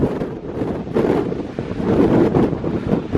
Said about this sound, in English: That wind will hold you straight up if you lean over far enough.